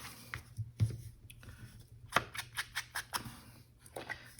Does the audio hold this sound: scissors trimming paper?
yes